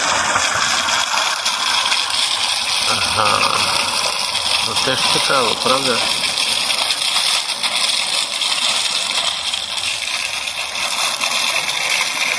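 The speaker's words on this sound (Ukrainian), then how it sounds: "Фонтан, фонтан. Срібний фонтан." A silver fountain gushes steadily by the sea, a loud continuous rush of water under people talking nearby.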